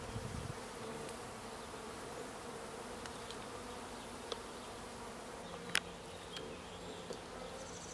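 Steady, faint buzzing of a honey bee swarm, a continuous drone with occasional louder passes of individual bees near the microphone.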